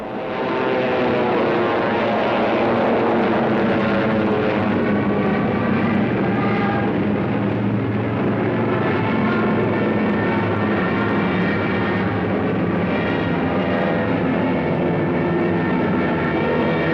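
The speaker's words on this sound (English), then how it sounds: "Fighters waited overhead for the defending planes of the Royal Air Force" World War II fighter planes with propeller engines drone overhead in a steady, loud, continuous roar that swells gently over time, with no voices.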